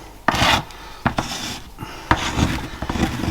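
A Parkside cordless random orbital sander works across wood in short bursts, a rasping, buzzing grind that starts and stops about four times, each pass close and loud.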